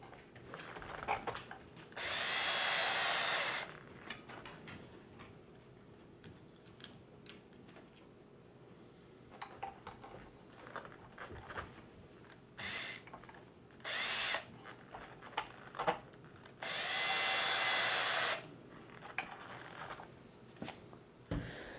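Power drill driving screws into an RC roll cage and nerf bar on a Traxxas Slash: short whirring bursts of the drill between quieter clicks and handling of small parts, close and fairly soft, no talk.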